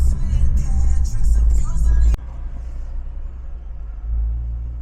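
A Mercedes E63 AMG with a CPC tune gives a deep, loud engine rumble that cuts off abruptly, then drops to a quieter low drone and swells slightly again near the end.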